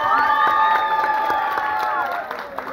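A festival crowd cheers and applauds as volleyball teams come on stage to collect trophies, with sustained whoops and shouts, children's voices and scattered clapping forming a loud, continuous roar.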